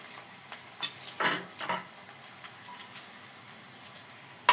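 Boiled rice with salt, turmeric, cumin, mustard seeds and urad dal is stirred in a pan, giving a soft sizzle broken by a few sharp spoon clinks and scrapes.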